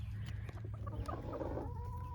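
A broody hen sitting on eggs gives soft, low clucks and a few murmuring calls, faint and close, with a quiet background hum.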